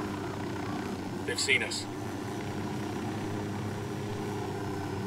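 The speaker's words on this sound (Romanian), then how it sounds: "ce fain elicopterul ăla" Helicopter in Ghost Recon Wildlands, a low steady rotor and engine drone running throughout under a voice, with a short burst of higher sound midway.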